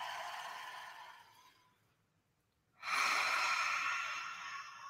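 Forceful breaths blown out during a guided meditative breathing exercise: a long airy exhale that fades, a second or so of near silence, then another strong rushing breath of air, close and steady, with no talking.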